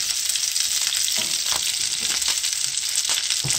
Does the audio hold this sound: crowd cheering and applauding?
no